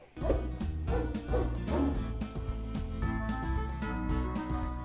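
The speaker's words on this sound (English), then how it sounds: "You are a dog, not a wolf. You're not supposed to howl at the moon, silly." A dog in the video game Majotori gives bursts of barking and yipping over a layered game music backdrop, with no talk.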